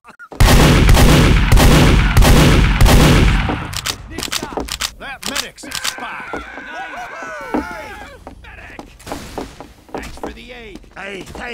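Gunfire in the video game Team Fortress 2 sounds as a loud, rapid string of shots, then gives way to scattered, sharp shots and impacts with other game effects and voices.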